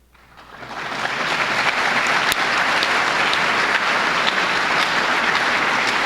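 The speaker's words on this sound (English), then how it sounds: "That round of applause is for you" Audience applause for board members at a Dollars for Scholars event, rising quickly from quiet into a dense, steady round of clapping that holds loud and even, with no talk over it.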